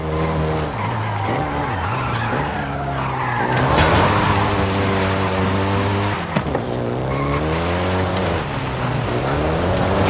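A Volkswagen Golf GTI races in Forza Horizon 5, its engine droning steadily with shifting pitch and tire skids, loud and continuous throughout.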